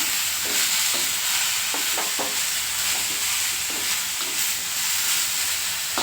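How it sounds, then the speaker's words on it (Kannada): Bitter gourd frying in a little oil in a pan, a loud continuous close sizzle with occasional soft stirring clicks, no voices. "ಹಾಗಲಕಾಯಿ ಫ್ರೈ ಆಗತ್ತೈತ್ರಿ"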